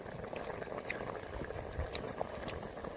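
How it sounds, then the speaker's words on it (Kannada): Chicken curry boils rapidly in a pot, a steady dense bubbling and gurgling close by with a few sharper pops, no voices over it. "ಕುದಿಯೋದು ನೋಡಿ ಎಷ್ಟು ಸ್ಪೀಡ್ ಕುದಿಯೋದಿದೆ"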